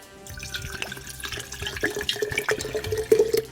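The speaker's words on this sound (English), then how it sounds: "add some water." Water runs from a tap into a honey jar left over from a mead batch, a steady gurgling stream that builds, with the pitch rising as the glass jar fills, close and loud.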